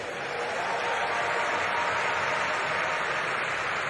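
A stadium crowd at the European Athletics Championships in Munich applauds and cheers steadily for 800m runner Patrick Dobek, a continuous, even wash of clapping from a distance.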